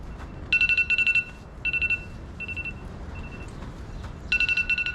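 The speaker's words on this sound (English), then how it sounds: "got an alarm going off here" An electronic alarm at a horse farm chirps in rapid bursts of high, trilling beeps, with pauses between groups, over a soft background hum.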